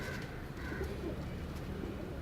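A female Shikra Ferozpuri pigeon softly cooing in a loft, low and steady against a continuous background murmur.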